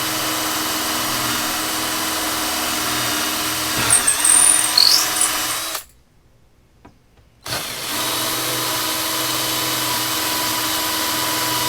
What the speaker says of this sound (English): We'll go ahead and drill the rest of our holes here and put these sides on.